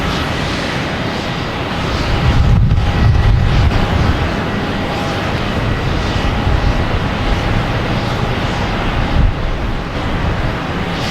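An airliner arrives at Boston Logan Airport with a sustained, loud jet engine rumble that swells briefly and then holds steady, buffeted by wind noise on the microphone, with no talk.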